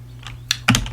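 A few quick keystrokes clack on a computer keyboard close to the microphone, with a single tap followed by a short burst of taps over a low electrical hum.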